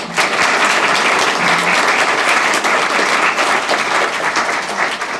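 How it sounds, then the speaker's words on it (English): Dense, sustained applause fills a school district board forum as the audience claps for the candidates after the first set of questions, loud and even throughout with no talk over it. "let's give them a round of applause"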